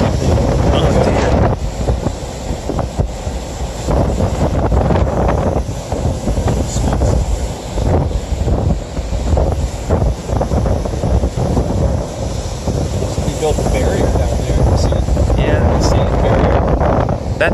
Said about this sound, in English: And the waves are beating everything.